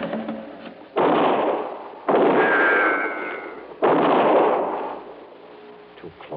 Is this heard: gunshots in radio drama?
yes